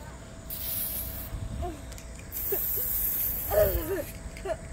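Aerosol spray cans hiss in bursts at a child's seventh birthday party, two long sprays with a brief gap between them, close and fairly loud, while children's voices chatter and call out over the spraying.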